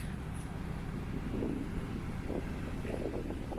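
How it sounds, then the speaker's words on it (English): Gusty wind rumbles steadily against the microphone at a beach on the Dampier Peninsula, Australia, a low roaring buffet with no voices, constant and fairly close. "The beach is so nice, it's a bit windy"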